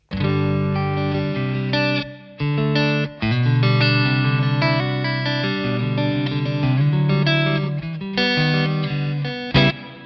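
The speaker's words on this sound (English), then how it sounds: "this is actually the reverb from the unit right now" An electric guitar plays distorted chords and notes through a Boss ME-5 multi-effects unit, with the unit's reverb tails ringing out between brief pauses in the playing.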